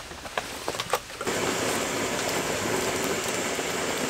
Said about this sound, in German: durch den Regen, der immer wieder drauf tropft